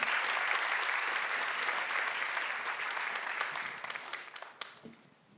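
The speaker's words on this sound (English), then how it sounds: "Please, with a warm applause, Ramprasad Misra." A science slam audience in Berlin gives a warm round of applause for a speaker, the clapping starting full and loud, then thinning into scattered individual claps over about five seconds.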